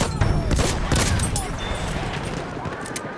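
Enemy machine gun fire in the Battlefield 1 video game, a loud dense burst of rapid gunfire and booms up close, fading into a rumbling battlefield wash.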